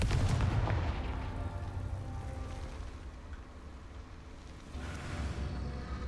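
A Confringo fire spell explodes in the Hogwarts Legacy video game, a loud booming burst at the start that fades into a long rumbling tail, with a second swell of crackle near the end.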